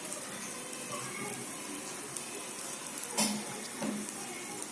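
Eggplant is sautéed in a pan, a soft steady sizzle with a couple of brief stirring scrapes near the end.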